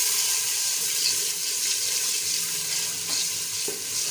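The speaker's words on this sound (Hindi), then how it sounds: "अब इसमें ऐड करेंगे अदरक और सब्ज़ मिर्च।" Ginger and green chilli stirred into onions frying in a pan for chicken vegetable pulao, a steady loud sizzle with faint scraping of the spoon, close and continuous without talking.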